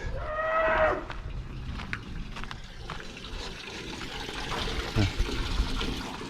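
A cow on a farm lets out a single close, loud moo at the start, followed by quieter farmyard sounds and a faint trickle of water.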